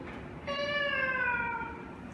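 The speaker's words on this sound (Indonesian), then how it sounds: "There is a kitten there." A small kitten gives one clear, drawn-out meow close by, rising and then falling away over a faint steady background hum.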